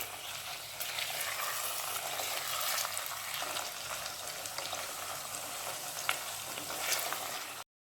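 Chicken pieces browning with onion in a pan over a raised flame for green coriander chicken, a continuous, fairly soft sizzle with occasional stirring clicks and no talking.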